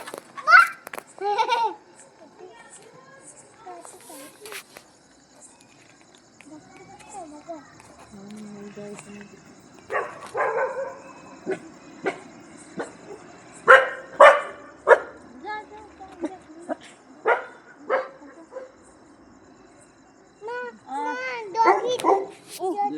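Dog barks in short, sharp bursts scattered through a family Holi celebration, fairly close and loud, mixed with children's and adults' chatter throughout.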